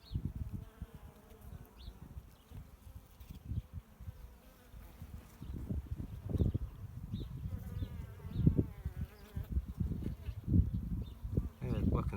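Honeybee workers buzz densely around a laying queen bee inside the hive, a close, continuous swarm drone with fluttering wingbeats and scattered louder passes near the microphone.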